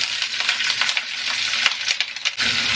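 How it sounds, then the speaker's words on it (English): Peppers and onions fry in avocado oil in a hot pan, giving a steady close crackling sizzle with small pops and a few stirring scrapes, with no talk. "And then we're going to throw all these peppers and onions in here."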